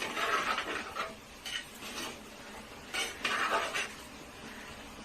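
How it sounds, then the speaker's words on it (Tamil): A metal ladle scraping and clinking against a pot while stirring avial, a South Indian mixed vegetable curry, in several short, moderately loud strokes separated by quieter pauses. "இப்போ அந்த கரண்டி எடுத்து ஒரு கிண்டி வச்சுக்கோங்க"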